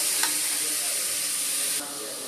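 Onions and double butter beans sautéing in a pan give off a steady, close sizzle throughout, with a brief stir-like scrape near the start and a slight drop in intensity near the end.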